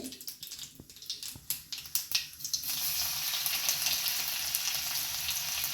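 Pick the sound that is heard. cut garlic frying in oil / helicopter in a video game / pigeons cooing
cut garlic frying in oil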